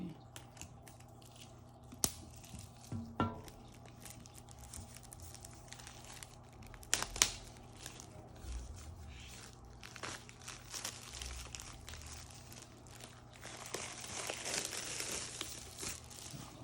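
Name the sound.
plastic wrap being torn off an iPad Pro box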